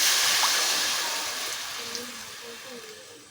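Water poured into a pan of farm chicken curry already mixed with chili powder, a broad steady rush that tapers slowly over a few seconds.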